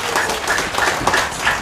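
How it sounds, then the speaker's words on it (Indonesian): An audience at a Jakarta market traders' community event with Anies Baswedan applauds, many hands clapping in a steady, moderately loud wash with slight swells. "Tepuk tangan untuk semuanya."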